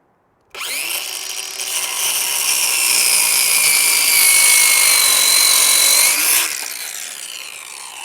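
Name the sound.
Ryobi 6 1/2 inch circular saw cutting wood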